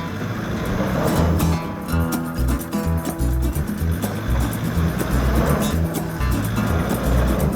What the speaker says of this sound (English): looks like the patrol just got stuck on that last little bit